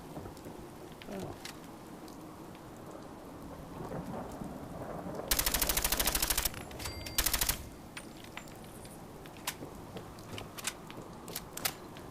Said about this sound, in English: this gun here is a submachine gun that I have. I have explosive rounds